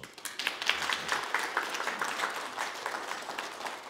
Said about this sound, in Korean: 박수 한번 보내드리죠